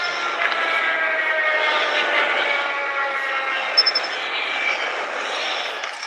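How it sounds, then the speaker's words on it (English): A stealth chopper in Call of Duty: Mobile drones overhead as a steady, fairly loud engine whine with layered tonal hum throughout, unbroken and without talk. "Stealth chopper inbound."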